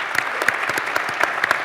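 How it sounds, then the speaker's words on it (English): An audience at a community forum gives a short round of applause for city staff, scattered claps rising and falling over a brief stretch with no talking. "Can we take this time to give our city staff just a round of applause?"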